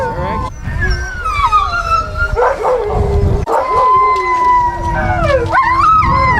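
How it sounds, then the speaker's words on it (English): Sled dogs at a truck before the Can Am sled dog race, barking, yipping and howling together in a loud, continuous chorus of overlapping wails and high yelps, close by, with voices mixed in. "We are now taking the dogs out of the truck and settling them around the truck."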